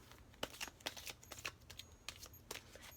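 Oracle cards are shuffled by hand at close range, giving quiet, crisp flicks and papery slaps in an irregular run of quick bursts with no talking.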